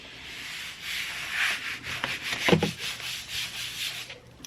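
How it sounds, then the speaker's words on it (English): A printed sheet is rubbed by hand onto foam board for a large cut-out prop, giving repeated dry scraping strokes in an uneven rhythm, close and clear with no voices. "I'm just going to rub him on the foam board."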